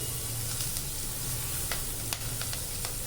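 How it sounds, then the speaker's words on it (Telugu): Onions fry steadily in hot oil with salt and turmeric, giving a constant close sizzle with a few faint stirring clicks of a spoon against the pan. "పసుపు కూడా వేసి ఒకసారి వేయించానండి"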